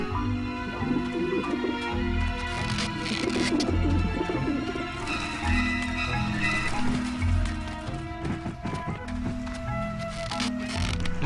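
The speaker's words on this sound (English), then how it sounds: "Run, you pigeons!" Pigeons coo repeatedly in the video game Grim Fandango, soft throaty calls layered over game music and ambient sounds, steady throughout with no speech.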